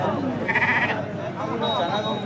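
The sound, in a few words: lambs bleating at a livestock market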